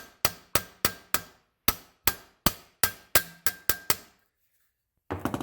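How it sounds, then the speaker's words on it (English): A hammer strikes a soft aluminum rivet on the anvil of a vise, about a dozen sharp metallic taps at an uneven, quickening pace, each ringing briefly, then a pause and a fainter rustle, during a Bellanca Cruisair door panel repair. "all I'm going to do is just hammer it down."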